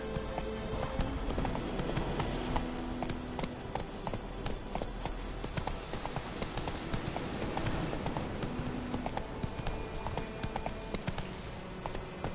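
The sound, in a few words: horse galloping in video game The Witcher 3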